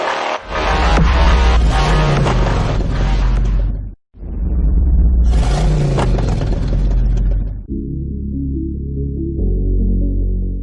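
A Suzuki S-Presso small hatchback accelerating on the road, its engine droning loud and steady with rising revs, a brief dropout near four seconds, then settling into a lower, even hum.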